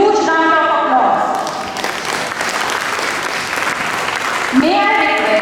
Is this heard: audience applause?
yes